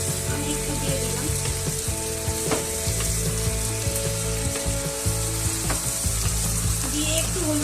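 Vegetables for a traditional Bengali shukto fry in a pan as turmeric is stirred through them, producing a loud, constant sizzle with rhythmic scraping and clicking from the spoon against the pan.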